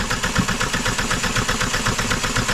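A Cosworth engine cranks over on the starter with only one of its four injectors firing, giving a steady, loud rhythmic churning with uneven low thumps and no talking.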